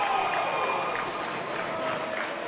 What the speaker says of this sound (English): Another round of applause for the Smithtown Bulls netminder.